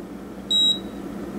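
An Instant Pot electric pressure cooker gives a single short, clear electronic beep after pressure cook is set, lasting about a quarter second over a quiet kitchen background.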